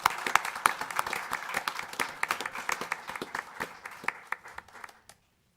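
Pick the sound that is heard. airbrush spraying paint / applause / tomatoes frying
applause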